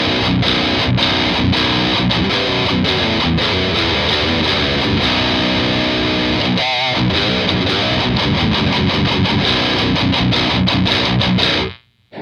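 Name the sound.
metal guitar in B standard through amplifier, no pedal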